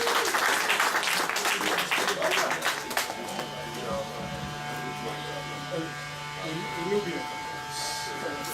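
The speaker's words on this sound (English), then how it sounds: "Y'all give Brother Salim another strong round of applause." A park audience gives a strong round of applause at an outdoor gathering, dense clapping at first, thinning and fading into a steady background hum with scattered voices.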